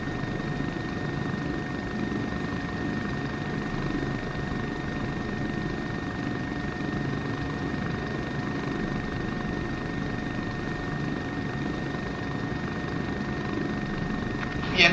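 Helicopter flying on a tour of Austria, its steady rotor and engine drone continuous and fairly close from start to finish, with no voices over it.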